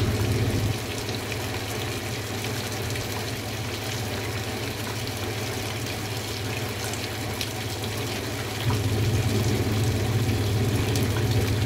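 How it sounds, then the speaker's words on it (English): A 2017 Speed Queen washing machine fills its drum with hot water, a steady rushing and gurgling inflow with a low mechanical hum that runs throughout, slightly louder at the start and end. "It's almost reaching the low water level."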